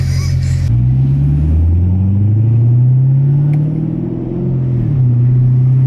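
A straight-piped C7 Corvette V8 exhaust rumbling loud and deep up close, its low idle drone rising and falling as the revs swell and settle.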